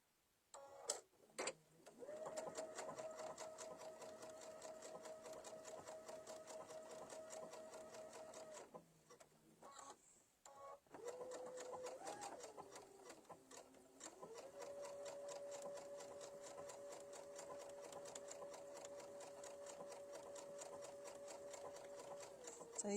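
Embroidery sewing machine stitching out big flower leaves, a steady fast mechanical whirring hum with a brief stop partway, then running again at a slightly shifting pitch, close and continuous.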